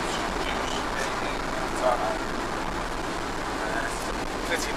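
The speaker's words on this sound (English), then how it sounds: "Pretty noisy drive" Constant road and cabin rumble inside a car driving home from Donington in rain, with someone talking over the steady drone.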